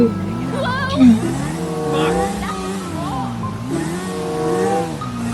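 A car driving in the video game GTA V, its engine rising and falling steadily in pitch with revving surges, heard close alongside continuous talking.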